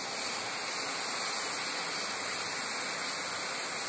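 Water poured into a pan while making restaurant-style red chilli paste with garlic and soy sauce, a steady loud rushing pour that runs unbroken throughout.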